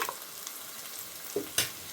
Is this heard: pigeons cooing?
no